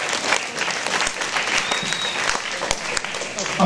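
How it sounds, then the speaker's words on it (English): Loud, dense audience applause for a city mayor at a welcoming ceremony, continuous clapping filling the whole stretch with crowd noise and a few voices mixed in. "give the mayor a round of applause for doing a great job here in this city"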